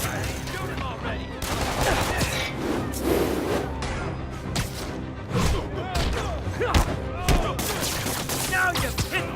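Criminals fire guns in the Marvel's Spider-Man video game, a dense fusillade of sharp shots and thuds in irregular bursts over a busy fight, with voices mixed in.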